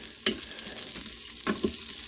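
Brown rice sautéing and roasting on a griddle gives a steady close sizzle, with a few sharp scraping stirs of a utensil against the hot metal rising above the frying.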